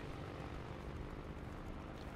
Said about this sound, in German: dein Flugzeug fliegt halt noch